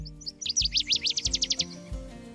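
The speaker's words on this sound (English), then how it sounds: "That's the northern water thrush." A northern waterthrush sings in a forested wetland near a peat bog, giving a rapid, loud run of sharp, sweet chirping notes that speeds into a ringing trill, heard alone over faint low background noise.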